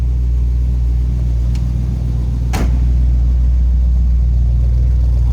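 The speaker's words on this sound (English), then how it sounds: "Good sounding truck, nice little deep rumble coming out of that." A 1940 Chevrolet pickup street rod idling, its exhaust giving a loud, steady, deep low rumble heard up close, with a brief sharp click partway through and no talking.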